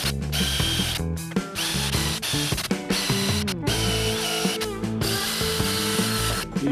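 A power drill with a metal bit whirs steadily, grinding through an axle for a utility dump cart wagon, its motor pitch shifting and briefly stopping a few times, close up.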